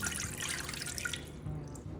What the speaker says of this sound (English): Next, I'm going to add a cup of water.